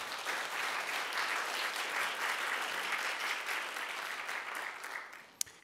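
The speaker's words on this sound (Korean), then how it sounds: "뜨겁게 박수 한번 해주시기 바랍니다" A church congregation claps warmly for a choir after a hymn, steady sustained applause that holds for several seconds before thinning out and ending with a last sharp clap.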